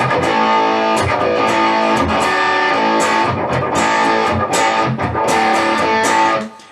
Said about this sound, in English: I'm going straight into the distortion, the crunch box, which I freaking love.